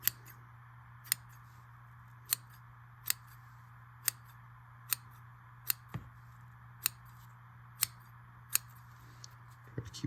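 Scissors trimming twine ends for a pocket knife lanyard: sharp, quiet snips repeating about once a second, evenly spaced, over a low steady hum with nothing else in the background.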